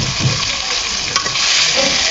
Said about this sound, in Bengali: মুরগিটা সুন্দরভাবে এপিট ওপিট করে লাল করে ভেজে নিব